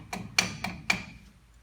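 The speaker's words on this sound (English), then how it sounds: "Tap it a little bit on the bottom" Four sharp metallic taps on a brake part of an 85 Chevy C10 Silverado to free a cotter pin, close and evenly spaced with a brief ringing after each strike.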